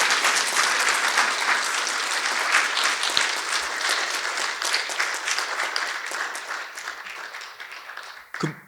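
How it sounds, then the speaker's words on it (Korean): Audience applause at the 16th Ilsong Award ceremony: a steady, dense roll of many hands clapping that holds strongly for several seconds, then thins and fades, with a last brief swell at the close. "여러분 박수로 축하해 주시기 바랍니다."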